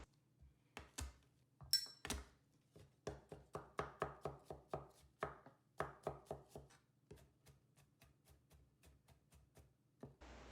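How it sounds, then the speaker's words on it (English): A knife chops garlic on a cutting board in quick, repeated sharp taps, a close series of rhythmic strikes that slows toward the end. "Now cut the garlic. We are going to mince it."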